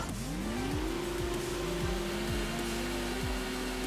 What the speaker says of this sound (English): The Zender sounds so different in the note.